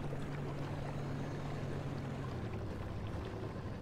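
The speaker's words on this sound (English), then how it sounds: "because I'm driving through the water" A car drives through water in the survival game Pacific Drive. The water rushes and splashes in a steady, continuous wash over a low rumble, with no voices.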